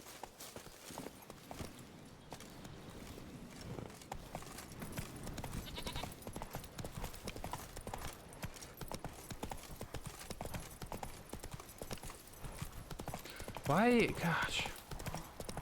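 Horse hooves clip-clop steadily in Witcher 3 while a player talks over the footsteps, with a brief horse snort or whinny near the end.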